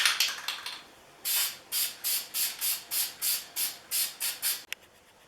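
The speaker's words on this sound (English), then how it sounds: "Now we're going to do 2 more mist coats and 1 regular coat." Short, close hissing blasts of aerosol lacquer misted onto a tote bag over a decal, about a dozen evenly spaced sprays in a steady rhythm with brief pauses between, loud and without speech.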